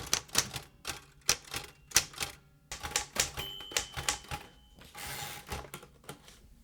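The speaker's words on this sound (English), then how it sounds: "This is the old Royal typewriter" An old Royal typewriter clacks through a run of sharp, uneven keystrokes, close and distinct, with a brief carriage-return ding and ratchet partway through and no voices.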